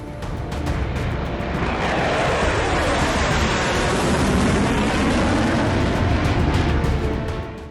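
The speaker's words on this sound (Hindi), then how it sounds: "इजराइल के फाइटर जेट्स की गर्जना से ईरान का आसमान थर्रा उठा है।" Israeli fighter jets roar across the sky over Iran. A broad, loud engine roar swells in, holds steady for several seconds, then fades slightly at the end, with no speech.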